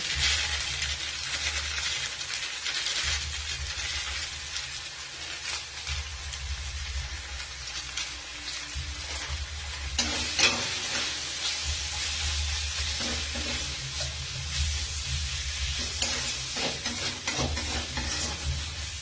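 Broccoli frying in a pan with Kashmiri chili powder, stirred throughout, a steady close sizzle with repeated scraping strokes and a low rumble underneath, no voices.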